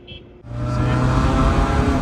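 A restored 1990s car on a test drive: after a brief quiet start the engine note jumps up and holds as a loud, steady drone with a low hum, sounding like acceleration from inside or near the car.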